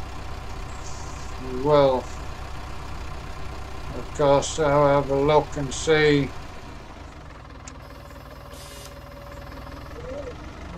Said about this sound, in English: Decent working tractor on the farm.